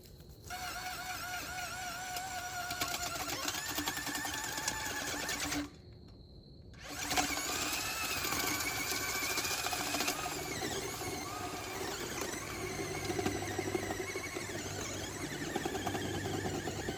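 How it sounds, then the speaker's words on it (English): A drill bores a hole outdoors during garden planting, whining steadily with its pitch shifting, a brief pause in the middle, then a longer continuous run with a lower grinding tone. "Let's drill a hole."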